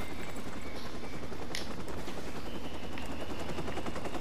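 Helicopter in the video game Watch Dogs, a loud steady rotor rumble mixed with rapid gunfire bursts throughout, no talk.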